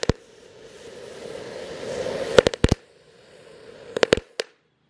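Firecrackers lit inside a hole in the ground fizz and hiss for a couple of seconds, then crack off in a series of sharp loud pops, with a second cluster of bangs a moment later.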